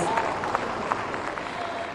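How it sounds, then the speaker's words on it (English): Brief audience applause for a cultural troupe at an outdoor festival, a dense crowd clapping with a few sharper claps and voices mixed into the wash. "let's give the Cookie Cultural Troupe a big round of applause"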